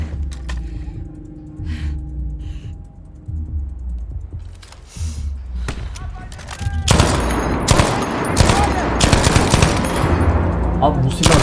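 Gunfire from a weapon in the video game Battlefield V, starting with sparse shots under quieter game sounds and then turning into dense rapid automatic bursts. Keyboard clicks can be heard underneath.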